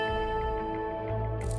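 A single sustained guitar note, an A, rings steadily, bright with overtones, held for under two seconds before a brief hiss at the end.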